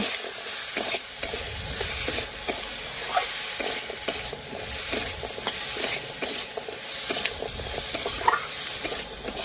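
A spatula scrapes and stirs raw pumpkin and vegetables in a sizzling frying pan with repeated clattering strokes over a continuous hiss of frying, close up and with no voices.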